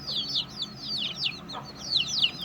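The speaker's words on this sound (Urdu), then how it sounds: "چینی نسل کی یہ مرغی ہے" A hen of a Chinese breed clucks in a run of short, quick, nasal calls that come in several bursts, moderately close and fairly quiet against a low background hum.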